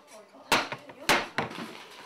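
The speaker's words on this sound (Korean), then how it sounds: "다 나왔던 그릇들도 다시 제자리로 들어간다" Dishes put back into place in a Korean home kitchen after relatives leave: a few sharp clatters and knocks of crockery, close and fairly loud, with quieter handling in between.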